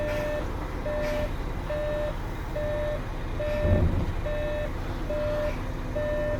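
A coach's reversing alarm beeps in a steady, evenly spaced rhythm after reverse is selected, sounding over the low idle of the engine, with a brief rumble partway through.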